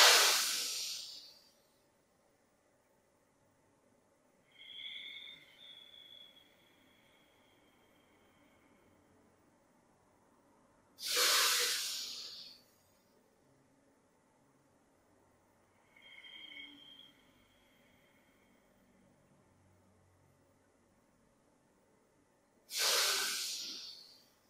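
Slow, deep yoga breathing, with loud airy exhales and softer, hissing inhales spaced several seconds apart, close and alone.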